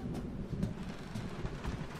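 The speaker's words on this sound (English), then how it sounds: "Was there a lightning strike?" Low rumbling thunder after a lightning strike in the horror video game Resident Evil 7, a dull continuous roll lasting a couple of seconds with no voices.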